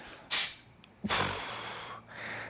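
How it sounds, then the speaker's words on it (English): A short sharp hiss burst, then a longer sputtering spray that weakens and trails off, close up. "I think I should just do a test of the spray tack."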